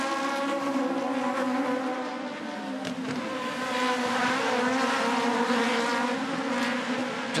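Aussie Racing Cars race around the Adelaide street circuit, a loud, continuous buzzing whine of several small-engined cars passing together, with the pitch rising and falling.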